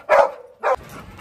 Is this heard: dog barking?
yes